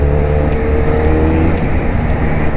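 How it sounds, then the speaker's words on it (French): A Benelli Leoncino 500 motorcycle engine runs steadily and loudly with a constant low droning hum, close and continuous throughout, with no voices. "Par contre, le moteur est vraiment intéressant."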